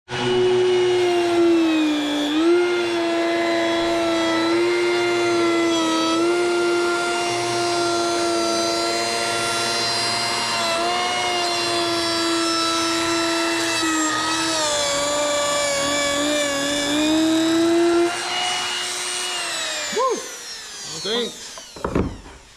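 A router fitted with a rabbet bit cuts wood to make a gasket, giving a loud, sustained high whine that holds steady for about twenty seconds before spinning down into a few knocks.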